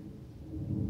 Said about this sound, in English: Yo, I hear that thunder out there.